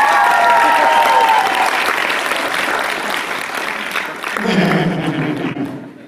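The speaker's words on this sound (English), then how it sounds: "Give Liam a round of applause." A convention panel audience claps in a full round of applause that gradually tapers off, while voices and talk rise in the room near the end.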